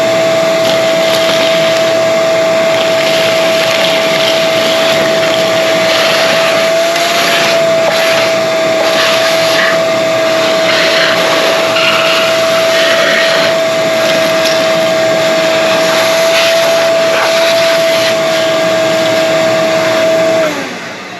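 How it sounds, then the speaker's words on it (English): A loud vacuum cleaner runs with a steady high whine and rushing airflow as it sucks mouse-nest debris out of a 1977 Pontiac Trans Am, with scattered rattles of material going up the hose before the motor winds down. "we need to vacuum a lot of stuff out of there"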